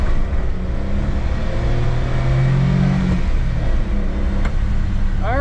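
A Subaru Domingo kei van's engine revs and pulls under acceleration, a steady loud drone with rising tone heard from inside the cabin, one short upward sweep near the end.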